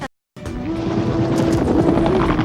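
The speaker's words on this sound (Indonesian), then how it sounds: "Mereka menggunakan helikopter untuk mengarahkan kumpulan hewan ke tempat kendaraan yang sudah menunggu mereka semua." A helicopter flies low to herd a group of wild animals toward waiting vehicles, its steady rotor chop loud and continuous after a brief silent gap at the start.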